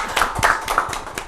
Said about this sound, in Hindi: एक बार तालियां बजनी चाहिए।